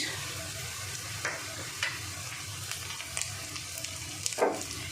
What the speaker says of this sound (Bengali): পেঁয়াজ রসুন আদা সুন্দর ভাজা ভাজা হয়ে গেছে।